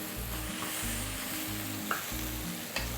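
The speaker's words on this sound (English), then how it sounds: "All that's left to do is stir frying." Onions and peppers sizzle loudly in oil in a hot wok, a steady frying hiss broken by a couple of brief scraping stir clinks.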